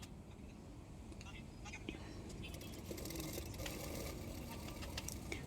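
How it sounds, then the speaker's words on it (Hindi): A sewing machine runs steadily while stitching folded blouse fabric, a continuous mechanical whir with some clicking, with a voice speaking over it. "एक्स्ट्रा फैब्रिक को मैं फोल्ड करके सिलाई कर लूँगी"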